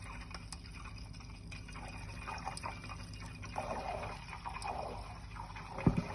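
Butter simmers in a pan while being cooked down into ghee, giving a faint, steady bubbling and soft crackle with a few small pops toward the end.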